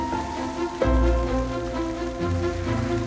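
Steady rain falling on a rainy day in Quebec, north of Montreal, a continuous close patter on surfaces with a low rumble swelling partway through.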